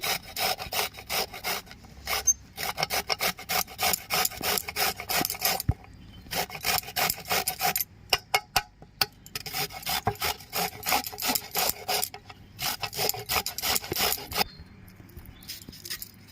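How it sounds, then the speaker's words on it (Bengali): Carrots grated by hand against a grater as filling is made for vegetable momos, a close, steady run of rhythmic rasping strokes with short pauses between bursts, no talking. "গাজরগুলো আমি ঘষে নিচ্ছি।"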